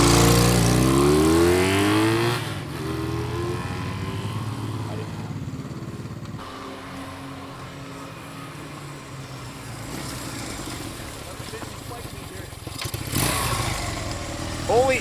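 A 1968 Honda CB160 Super Sport with about 380 miles runs nearby: a sharp, loud rev opens, then the engine settles into a lower, uneven idle and revs up again toward the end.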